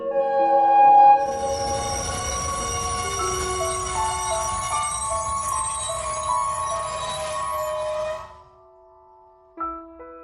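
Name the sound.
train approaching, sound effect in a story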